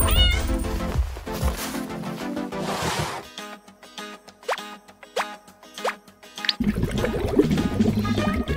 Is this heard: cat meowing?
yes